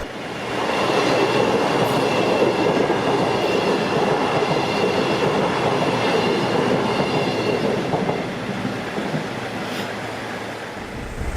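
A train rumbles steadily past a level crossing in Southampton, a loud continuous roar of wheels on rails with faint squealing, holding strong for most of the stretch before easing slightly near the end.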